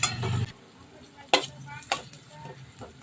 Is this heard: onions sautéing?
yes